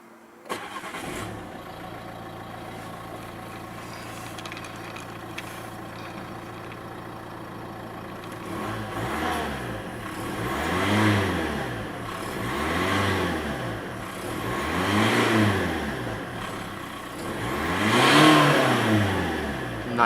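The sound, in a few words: 2015 Nissan Pulsar 1.5 dCi diesel engine starting and revving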